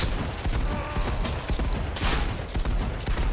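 Dense, continuous gunfire in Cyberpunk 2077, with rapid shotgun blasts and crackling impacts layered over a loud, busy game soundscape near exploding barrels, steady and close throughout.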